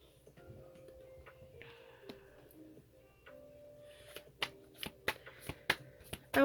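Tarot cards are shuffled and drawn by hand: quiet riffling and sliding at first, then a run of crisp, close card snaps and taps getting louder toward the end, with no speech.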